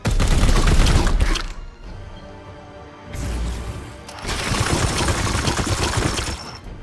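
Heavy gunfire from the Chaos Gate Daemonhunters video game, loud dense bursts of shots and booms with a brief lull in the middle before the firing resumes close and continuous.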